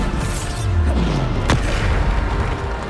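A Bombarda spell explodes in the Hogwarts Legacy video game, a loud, deep single boom swelling over a sweeping whoosh and fading into a low rumble.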